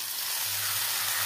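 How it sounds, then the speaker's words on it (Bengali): Boiled roma beans land in a hot pan of frying spice paste, setting off a loud, steady broadband sizzle and hiss throughout, with no voices. "দিয়ে দিচ্ছি সেদ্ধ করে রাখা রমা কলাই,"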